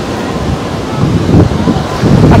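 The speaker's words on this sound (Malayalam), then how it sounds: "കുഞ്ഞു കുഞ്ഞു തിരമാലകൾ ഇങ്ങനെ വന്ന് തെളിതാകുന്നു" Small sea waves washing up on a shore, a steady broadband wash that swells louder toward the end, with some wind noise and no talk.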